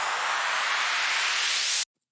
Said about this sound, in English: And some sweeper.